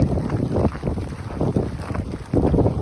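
Strong cold wind buffets the microphone in loud, rumbling gusts that rise and fall, with no voices.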